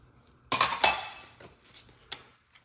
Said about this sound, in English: we're just going to get in here and give it a good mix